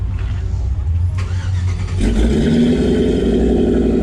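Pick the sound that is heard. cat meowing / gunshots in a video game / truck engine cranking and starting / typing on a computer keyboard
truck engine cranking and starting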